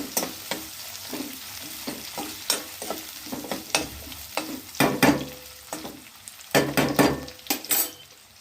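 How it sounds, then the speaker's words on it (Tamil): Onions frying in a pan for wheat rava kichadi, with a loud sizzle, repeated stirring and scraping strokes, and occasional metallic clinks of the spoon against the pan. No one speaks. "அது நல்லா பொரிஞ்ச உடனே வெங்காயம் போட்டுருங்க"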